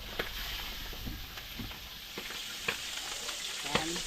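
Hot oil spatters and crackles steadily as lechon kawali fries in a pan, with sharp pops of splatter breaking through a continuous close sizzle.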